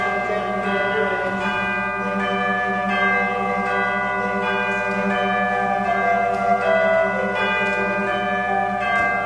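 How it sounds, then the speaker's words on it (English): Church bells ring steadily, their overlapping tones struck in a slow repeating pattern and sustained with a long, humming resonance. "Listen, those merry village bells."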